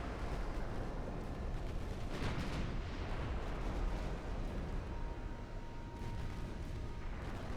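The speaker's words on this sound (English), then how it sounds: "That's all secondary fire" Secondary guns on warships firing in a naval battle in Ultimate Admiral: Dreadnoughts, a dense continuous barrage of overlapping booms and rumbling blasts that never lets up, loud and steady throughout.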